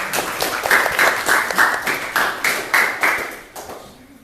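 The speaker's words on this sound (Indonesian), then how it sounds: "kita berikan tepuk tangan untuk teman-teman" A classroom claps for a group of students who have just presented. The applause is close and rhythmic, in bursts of hand claps that fade out near the end.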